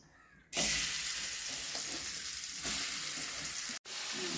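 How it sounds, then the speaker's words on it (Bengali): Chicken sizzles loudly in hot coconut oil for Kerala-style chicken curry, a steady broadband fry that bursts in abruptly after a quiet start, with a brief cut near the end. "আমরা রান্না করছি কোকোনাট অয়েলে"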